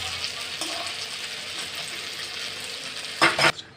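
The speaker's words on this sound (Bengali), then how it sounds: "বাকিগুলো আমি এভাবে সব ভেজে নিচ্ছি।" Cauliflower pieces fry in oil in a wok with a constant crackling sizzle. Near the end comes a brief, louder burst of stirring and scraping, then the sound cuts off abruptly.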